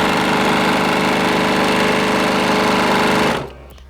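A Baby Lock Accomplish sewing machine stitches through jean fabric in a loud, fast, steady mechanical hum with rapid needle rhythm, close by, then stops abruptly near the end.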